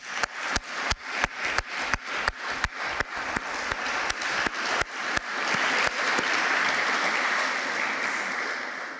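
A conference audience at an international human rights event honoring Maria Kalesnikava claps, starting as a few sharp, separate claps that quickly build into steady, sustained applause before tapering slightly.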